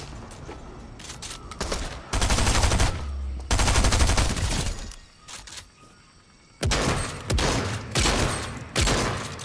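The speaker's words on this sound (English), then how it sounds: "Dude keeps shooting at me!" Bursts of automatic gunfire in Fortnite Chapter 3 Season 1 come in several long, loud sustained volleys, separated by short quieter gaps with fainter shots in between.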